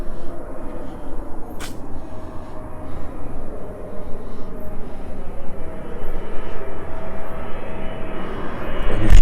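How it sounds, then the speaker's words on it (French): Propeller airplanes passing overhead above a cemetery crypt at night, a steady broad engine drone that swells slightly toward the end, fairly loud and continuous with no talk. "il y a des avions qui passent, c'est un peu perturbant"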